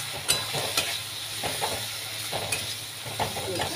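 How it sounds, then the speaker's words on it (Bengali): Spice paste with Kashmiri chili and turmeric sizzling in oil in a pan for a chicken and potato curry, steady frying hiss punctuated by occasional spoon scrapes and stirring clinks. "এবার খুব ভালো করে মশলাটা একটু সময় নিয়ে কষিয়ে নিতে হবে"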